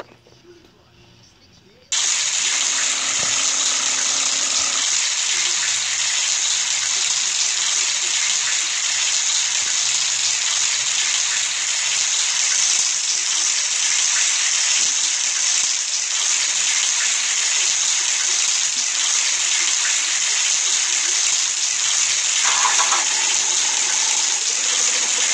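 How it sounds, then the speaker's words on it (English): Shower water running in the Roblox game Blocksburg, a steady loud hiss of spray that starts abruptly after two seconds of quiet and continues unbroken to the end. "firstly the shower"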